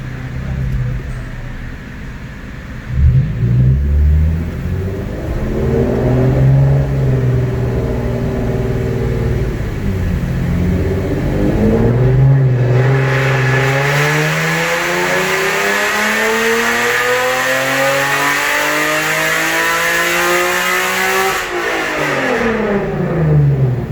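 A 2010 Infiniti G37 engine revs on a dyno during a tune. A brief rev comes first, then one long, loud sustained pull that climbs steadily to high rpm before it drops off.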